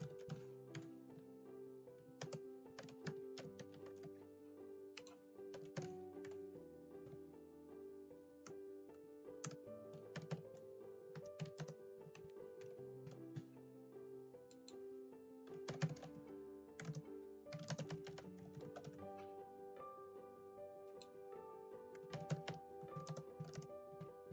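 Steady clicking of computer keyboard keys as quiz answer options are typed in, a long run of quick irregular keystrokes with short pauses, close and soft, no speech.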